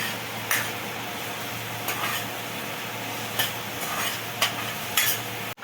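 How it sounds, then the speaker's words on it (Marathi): Onion browning in a pan for a jackfruit vegetable dish, a steady close sizzle with a few scraping stirs of a spoon against the pan. "कांद्याला थोडा ब्राऊन होऊन देऊया."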